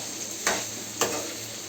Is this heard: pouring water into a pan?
no